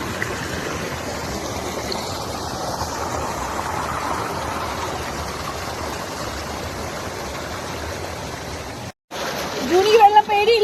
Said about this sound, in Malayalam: ജൂണിനെ വെള്ളത്തിലിട്ടിട്ട്